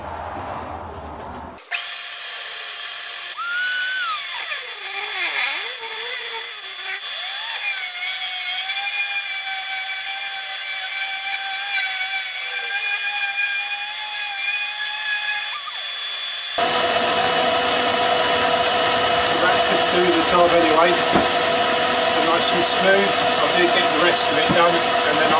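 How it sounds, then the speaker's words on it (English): Power sander working a reclaimed wood table top with 320 grit paper at reduced speed, a steady high whine that drops into a rougher, louder grinding roar partway through, close and continuous. "I was hoping to hand sand it, but I can't find any 320 grit sandpaper other than these ones."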